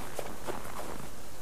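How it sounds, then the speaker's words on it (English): Footsteps in a survival shooter video game, a short run of steady steps on the ground at close range over continuous ambient noise. "I'm sure it's just my footsteps, right?"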